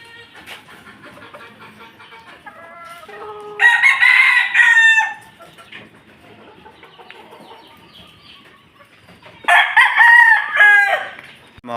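Rooster crowing twice in a small backyard coop, each loud crow lasting over a second, with softer clucking and chick peeps from the flock running steadily between the crows.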